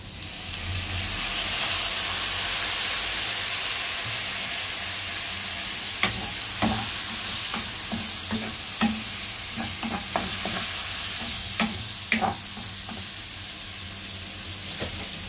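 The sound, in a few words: cabbage being sautéed and stirred in a pan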